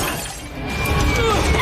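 Glass shatters in a scene from the Good Burger movie: a loud, sustained crash and tinkle of breaking glass that swells and keeps ringing for over a second.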